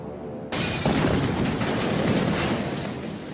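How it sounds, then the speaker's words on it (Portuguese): A bomb goes off suddenly in a reconstructed test of the Hitler assassination, letting out a loud broadband blast and then a sustained roaring rumble that fills the rest of the moment with no voices. "Nosso teste reproduziu fielmente a explosão"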